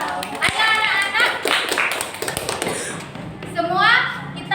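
Classroom children clap in a quick, uneven burst with thumps and taps, while kids' voices and an adult's speech carry over and around the clapping.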